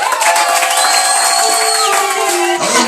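A Pentecostal church congregation cheers at a night vigil, a loud wash of overlapping voices and shouts that swells and holds.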